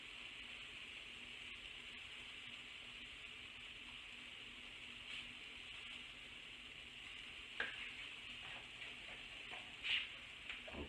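Eggs and torn cheese being stirred in a hot frying pan, a soft steady sizzle with faint scraping and stirring knocks near the end, quiet and without voices.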